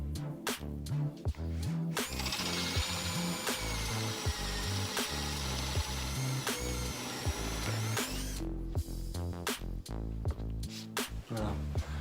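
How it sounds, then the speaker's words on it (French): A power drill runs its bit through wood into a sacrificial backing board on a folding workbench, a steady whirring bore with rising pitch, broken by stops, knocks and handling clatter nearby. "pour éviter du coup que quand la mèche va passer à travers le bois, qu'on ait des éclats"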